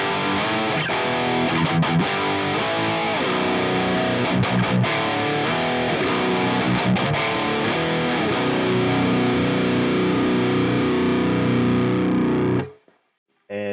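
Electric guitar run through the Mikko 2 amp plugin on its smooth preset plays a sustained, saturated riff with chords and single notes for about twelve seconds, steady and loud, then stops abruptly.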